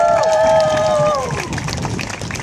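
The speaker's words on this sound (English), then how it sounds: "Round of applause for him." Street-performance crowd at Venice Beach applauding a b-boy act, a loud wash of clapping and cheering with a high whistle-like cheer at the start that fades into steady applause.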